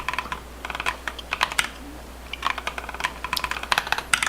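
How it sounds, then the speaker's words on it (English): Clicky computer keyboard typing in irregular bursts of quick keystrokes, close and crisp, with a short pause midway and no talking. "You get this keyboard."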